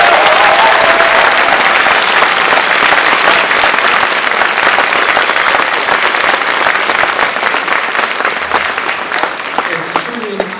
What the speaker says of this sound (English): Ladies and gentlemen, let's give them one more round of applause.